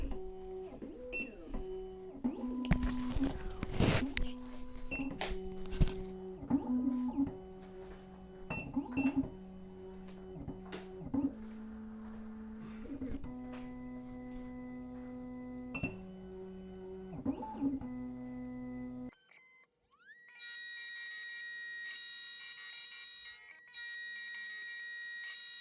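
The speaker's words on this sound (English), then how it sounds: "we'll just let the machine do its thing here. We'll cut the first side, and we'll flip it over and cut the other side." A Black Widow key machine cutting a BMW HU92 key, its motor whining and changing pitch in stepped tones as the cutter works along the blade, close and loud, ending in a sudden drop to a high electronic tone.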